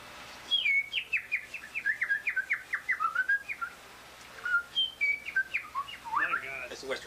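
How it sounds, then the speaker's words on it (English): A Western Meadowlark sings close by, delivering two bursts of bright, fluid whistled and warbled phrases separated by a short pause, with faint voices in the background. "That's a Western Meadowlark"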